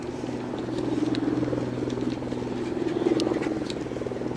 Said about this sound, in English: Maybe you can hear the chopper overhead